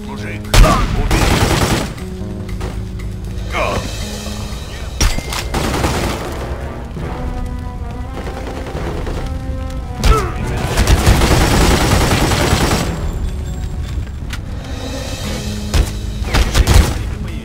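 Gunfire in The Godfather 2 video game, repeated loud bursts of shots and booming impacts spread across the stretch, some rapid automatic volleys, with a game soundtrack underneath.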